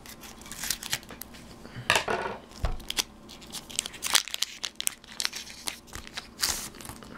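A sealed Pokémon card preview pack is snipped open across the top with scissors, giving close, crisp crinkling and crunching of foil wrapper with a few sharp cuts and rustles, no talking.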